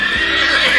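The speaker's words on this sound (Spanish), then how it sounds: "ese sonido se llama relincho" Loud, close whinny from a horse, a single sustained high neigh lasting just under a second with nothing else heard.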